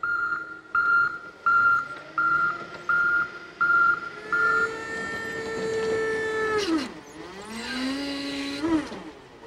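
A forklift unloading a trailer sends out a regular series of loud reversing beeps, then the beeps stop and a rising, whining motor tone with squealing sweeps follows close by.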